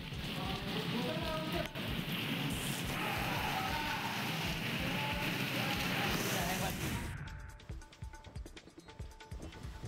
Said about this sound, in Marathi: ढगांच्या कडकडाटासह पावसाला सुरुवात झाली असल्याचं बघायला मिळतंय